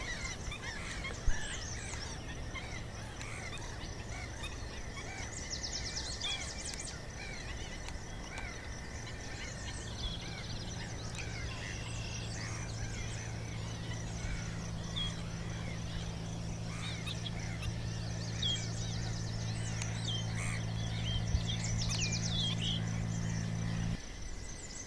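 Wintering and nesting bird colonies on abandoned salt marshes of Île de Ré, heard as scattered faint calls and chirps over a steady low rumble of wind or distant engine, with no voices.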